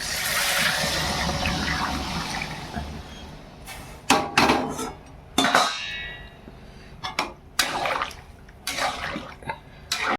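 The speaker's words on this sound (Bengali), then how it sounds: "এই গরম জলটা এই মাছের ঝোলের মধ্যে দিয়ে দেবো" Hot water pours into a pan of spiced fish curry with a rushing splash for a few seconds. Sharp clinks and clatters of utensils follow in short bursts.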